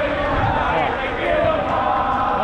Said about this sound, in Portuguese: a torcida do Vélez chegando aqui